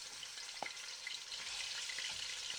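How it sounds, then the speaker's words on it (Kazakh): Meat for Turkish maqluba frying in a pan, a steady quiet close sizzle with one brief clink near the start. "Және де етімізді де жақсылап осылай қуырып аламыз."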